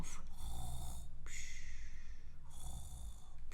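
A voice imitates the snoring of a sleeping miller in a children's song, giving two long, breathy rasping snores with a short pause between them, close and soft.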